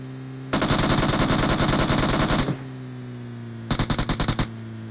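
Automatic gunfire from the PUBG Mobile game: one long loud rapid burst of about two seconds, a pause, then a shorter burst, over a steady electrical hum and with no voices.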